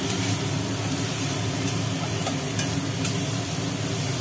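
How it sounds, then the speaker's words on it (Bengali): Spice masala with salt is sautéed in a pan, a dense continuous frying sizzle with occasional faint scrapes and taps of stirring, close and steady with no voices. "এইবার এটাকে কষানো হবে, মশলা এখনো কষানো চলছে।"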